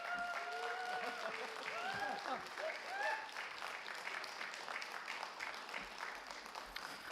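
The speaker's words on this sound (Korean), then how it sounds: "우리 이대학 선교사님 올라오실 때 뜨거운 박수로 환영해 주시기 바랍니다" A church congregation gives a warm, sustained round of applause welcoming a Mongolia missionary to the front, dense clapping throughout with a few voices mixed in early on.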